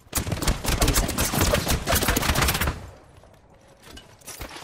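Fast automatic gunfire in a battle royale video game, a loud rattling string of rapid shots for about three seconds that stops abruptly, followed by quieter background sound.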